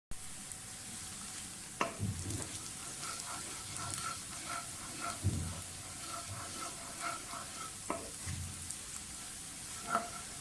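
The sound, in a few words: onions frying in oil for zeera rice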